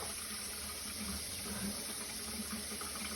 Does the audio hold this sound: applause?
no